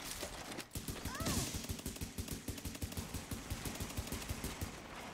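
Rapid pistol gunfire in The Division, a third-person shooter, cracking out in a dense, steady stream of loud shots that runs through the whole stretch, with a brief pause and some game effects near the start.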